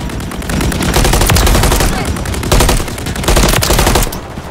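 Sustained automatic gunfire rattles through a Domination match on the Rust map in the Call of Duty: Modern Warfare III beta, loud and close, with rapid bursts in dense overlapping volleys.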